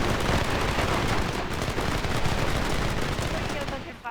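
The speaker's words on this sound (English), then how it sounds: "Look at a bunch of firecrackers." Firecrackers going off in the Red Dead video game, a dense, loud, continuous crackle of rapid pops that lasts about four seconds and cuts off at the end.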